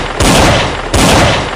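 Two loud bursts of gunfire from a Portuguese-language radio drama, each a harsh broadband blast that sustains for most of a second, the second following the first after a short gap.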